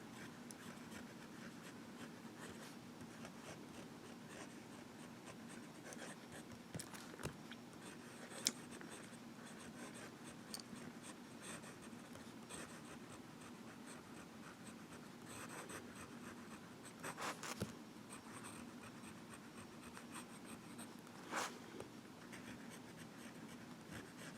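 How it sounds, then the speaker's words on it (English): A Visconti Mirage fountain pen writing in reverse, its nib giving a steady, faint scratchy glide across paper for the whole stretch, with a few soft tap-like accents, close and quiet with no talking. "Nice and wet, reverse writing."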